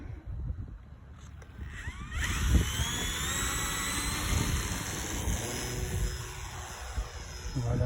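A drone takes off again, its motors rising into a high, steady whine that holds over a low rumbling background, with engine tones shifting as it climbs.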